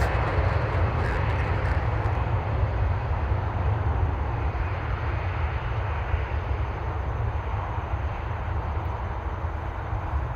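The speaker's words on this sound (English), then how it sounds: "We have Air Canada here, going to Montreal, Airbus 321." Air Canada Airbus A321 bound for Montreal near Toronto airport, heard as a steady, loud broadband jet roar with heavy low rumble that holds constant throughout, no voices.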